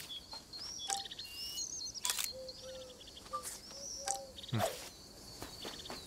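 Birds chirp and tweet in the video game Alba: A Wildlife Adventure, with several short bright calls and trills scattered over a soft outdoor ambience, fairly close and moderately loud.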